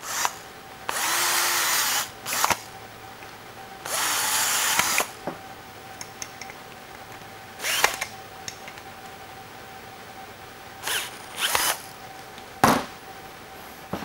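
A power drill with a flathead bit drives screws into cable terminals for a homemade power stinger jumper cable. It runs in two sustained whirring bursts of about a second each, followed by several short clicks and quick bursts, loud and close with no talking.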